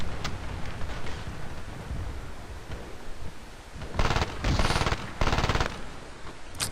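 Engineer weapon gunfire in the online shooter Battlefield Play4free, heard as rapid automatic bursts that stand out loudly near the end over a steady rumble of battlefield noise.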